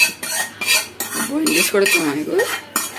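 Fried poha stirred in a pot for payasam makes loud, repeated metal scrapes and clinks of a spoon against the pot in a quick, irregular rhythm, close up with no talk.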